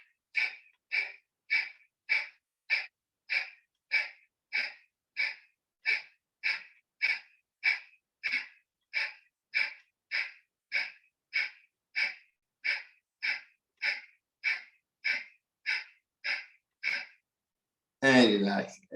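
Kapalbhati yoga breathing exercise: about thirty rapid, evenly spaced forceful nasal exhalations in a steady rhythm, close and clear, ending with a longer rough breath.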